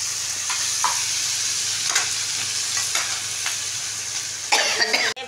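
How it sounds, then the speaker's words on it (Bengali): Onion and colocasia flowers frying in a pan for a traditional Bengali dish, a steady soft sizzle with intermittent scrapes and clinks of a spatula stirring, and a sharper clatter near the end. "একটু ভাজা ভাজা হচ্ছে"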